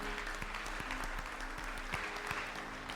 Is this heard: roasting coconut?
no